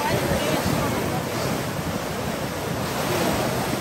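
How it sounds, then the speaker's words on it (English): Ocean surf where a river meets the sea and forms extreme waves: constant close churning wash and roar, with wind buffeting the microphone, continuing the whole time. "it made pretty extreme waves all around"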